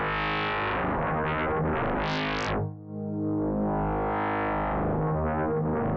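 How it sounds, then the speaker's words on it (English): Wave shaper distortion on the Korg Wavestate Native software synth gives a gritty, harmonically rich tone that sweeps up into a bright, resonant peak, drops out briefly, then returns as a thick, buzzing sustained sound, with no voices. "Wave shaper distortion."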